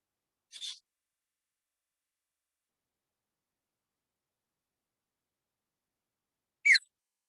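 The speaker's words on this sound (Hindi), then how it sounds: "ये एक चिड़िया, बांस से बने हुए एक चिड़िया का आवाज निकली सर" A bamboo bird whistle gives two short, bright chirping calls, one near the start and one near the end, with silence in between.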